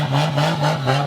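A Lexus IS300 with a 2JZ engine revs in the paddock at a UAE drift event. The engine is loud and close, with several rhythmic rising pulses in quick succession.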